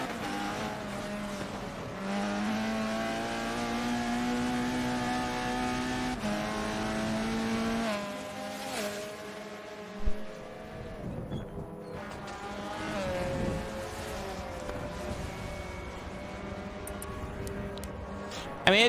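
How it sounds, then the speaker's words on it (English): Race car engines drone and shift through gears in a touring car racing game, a steady roar of several cars at speed with pitch changes and a brief bump, no voices over it. "it just looks like Stance has the better car by a smidge"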